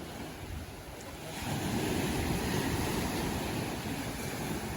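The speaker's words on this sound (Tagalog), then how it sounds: "sobrang laki ng alon ngayon" Heavy ocean surf rumbles and crashes steadily, swelling louder midway, with wind buffeting the microphone and no voices.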